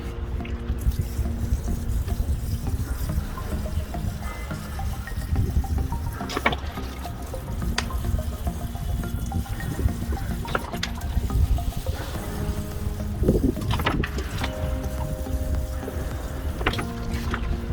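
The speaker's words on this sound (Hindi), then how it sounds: "चलिए अभी थोड़ा पानी देते हैं" Water poured onto a Pink Shower Tree bonsai grown from seed, a soft trickling and splashing that comes and goes in short bursts, close by and without talk.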